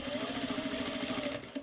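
A sewing machine stitches fabric piping in a fast, even mechanical whir with a rapid regular needle beat, close and fairly quiet, stopping briefly near the end.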